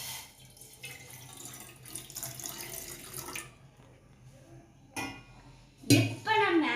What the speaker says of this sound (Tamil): இப்போ நம்ம ஃபர்ஸ்ட் வந்து பேன்ல வந்து தண்ணி ஊற்றிக்கலாம்.